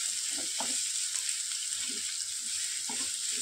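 Onion fries in a pan with a constant bright sizzle, broken by a few soft, low stirring knocks and scrapes, close and steady with no speech.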